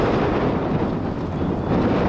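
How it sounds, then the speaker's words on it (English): Strong wind buffets the microphone in a continuous loud rumble, with no voices heard. "It's windy out here."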